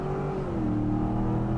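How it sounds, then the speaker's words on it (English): A 2024 Ford Expedition King Ranch with an EcoBoost engine accelerating hard from a launch, giving a loud, steady, rising engine drone heard from inside the cabin. "I told you those EcoBoosts, they launch pretty hard"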